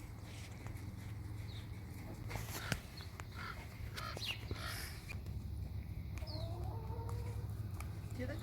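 A pet chicken clucks in short, scattered bursts, fairly close but soft, over a low steady background hum, with no one talking.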